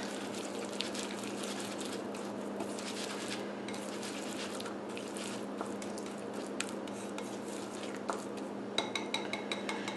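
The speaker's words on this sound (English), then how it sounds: "I'm just going to put my packet of ranch dressing into my olive oil. And then I just want to whisk that around" A packet of ranch dressing is whisked into olive oil in a bowl: quiet, continuous metallic clinks and scraping of a whisk against the bowl, with a few sharper taps near the end.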